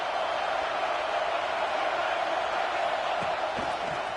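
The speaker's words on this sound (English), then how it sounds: "this crowd imploring its defense to stand firm" A football stadium crowd roars steadily as it urges its defense on, a dense sustained wall of massed voices with a few faint louder shouts near the end and no clear talk.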